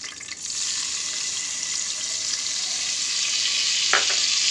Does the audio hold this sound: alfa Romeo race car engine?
no